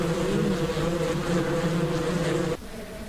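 Bees buzz steadily around hives in the Ranch Simulator farming game, a loud, dense drone that holds throughout and drops abruptly to a quieter hum near the end, with no talk.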